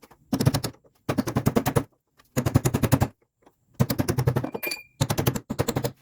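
Hammer blows on a chisel driving against the beveled sleeve of a front suspension bushing on a 1985 Mercedes 300CD, struck in five loud, rapid bursts of sharp metallic clanks with brief pauses between.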